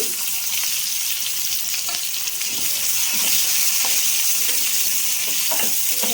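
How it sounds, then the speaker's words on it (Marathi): A large, finely chopped onion fries in hot oil with garlic in a pan for masala potatoes, making a loud, dense, continuous sizzle up close, broken by occasional soft stirring clicks. "लगेच आपल्याला कांदा ॲड करायचा आहे त्याच्यात बारीक चिरलेला एक मोठा कांदा घेतला होता"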